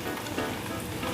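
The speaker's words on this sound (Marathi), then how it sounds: "मी सुकं खोबरं किसलेलं घेतलेलं आहे, ते भाजून घेऊया।" Dry grated coconut roasts in a pan with a steady, dense crackling hiss that holds at an even level throughout the brief moment.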